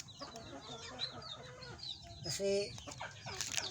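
Hens clucking in a backyard where laying hens are fed and watered, with a rooster-like call and soft chicken chatter running for several seconds under a voice speaking close by.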